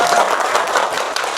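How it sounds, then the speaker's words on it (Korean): An audience at a book launch talk applauds briefly, a close, dense burst of clapping lasting only a moment. "박수가. 네, 박수가."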